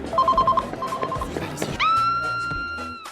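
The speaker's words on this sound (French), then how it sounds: "À ce moment le téléphone de la femme sonne." In a restaurant, a woman's mobile phone rings with a bright electronic tone that sustains for over a second, preceded by short beeping notes amid clattering and background noise.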